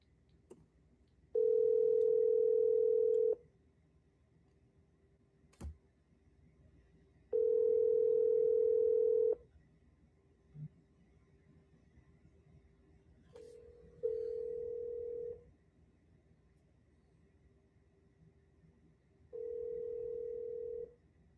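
Outgoing phone call to a buyer ringing unanswered: four long steady ringback tones spaced several seconds apart, clear and alone over faint background hiss.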